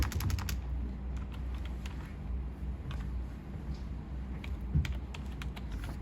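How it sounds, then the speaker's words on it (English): A computer keyboard clatters with quick, close keystrokes in short bursts as a name is typed into drafting software, fairly quiet over faint room noise. "just select them and click B and type block name."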